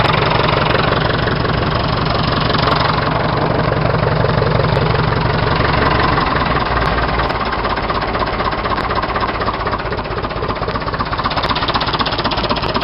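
A 1974 Leyland 255 classic farm tractor's diesel engine ticks over at a slow idle, a steady loud rhythmic knocking chug running close and continuous throughout with no talk.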